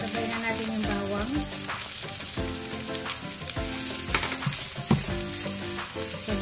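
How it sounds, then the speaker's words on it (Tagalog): Onion and garlic sautéing in a hot pan while cooking pancit canton, a steady close sizzle and crackle of frying throughout with occasional stirring clatter, no talking. "gigisa lang natin yung sibuyas. Sabay na natin yung bawang."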